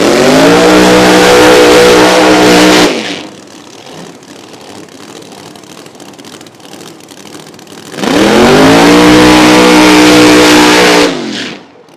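A drag racing SN197 Mustang with a new Hemi, screw blower and Fuel Tech setup roars loudly at close range in two long bursts, each a deep revving blast that rises and then drops off, with a quieter rumbling stretch between them.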